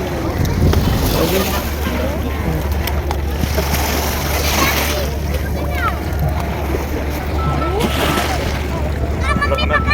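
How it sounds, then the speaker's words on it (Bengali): Water sloshes and splashes continuously like sea waves while cold wind gusts over the microphone, and people talk throughout. "এই সমুদ্রের মতো জলটা আসছে"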